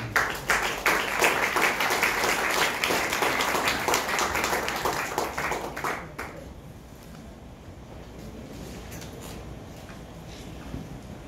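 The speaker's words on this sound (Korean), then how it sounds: "우리 나오실 때 박수로 우리 환영해 주십니다." Audience applause greets a speaker at a Korean Presbyterian church assembly seminar, with dense clapping for about six seconds before it thins out and fades into quiet room tone.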